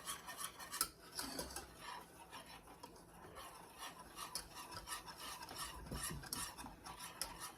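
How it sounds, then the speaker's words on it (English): A spoon scrapes and stirs thickening chocolate pie filling in a pot, with quiet, steady rubbing strokes and occasional light clinks against the metal, faint and close. "You're stirring this to keep this from sticking"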